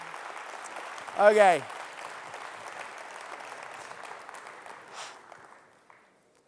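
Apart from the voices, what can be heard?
audience applause for quiz contestants leaving the stage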